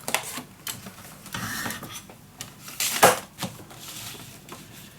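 Paper for a handmade mini album is cut in a series of close, quiet snips and crisp scraping crunches, irregular over about five seconds, with one sharper cut near the middle and no voices.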